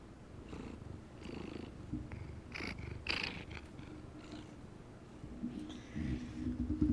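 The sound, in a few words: cat purring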